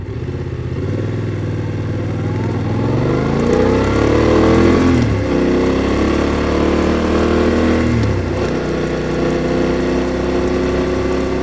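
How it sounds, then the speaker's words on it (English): A BMW F900R motorcycle with stock exhaust idles with a deep, throaty rumble, revving up and easing back a couple of times, loud and close. "I just really like that raw, low rumble. It's a good stock sounding exhaust."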